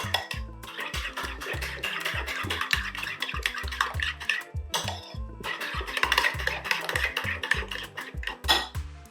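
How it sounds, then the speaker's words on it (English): A spoon stirs sweet chili sauce ingredients, including tomato ketchup, in a bowl, with steady close scraping and clinking against the sides in a continuous rhythmic pattern. "So I'm just going to mix this together."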